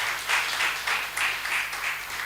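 A conference audience claps for a speaker at a mental health gathering, a moderately loud, steady patter of many hands with slight rhythmic swells and no voices.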